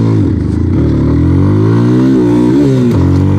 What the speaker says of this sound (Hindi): गाड़ी को मैंने स्टार्ट कर लिया है